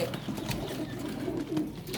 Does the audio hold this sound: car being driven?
no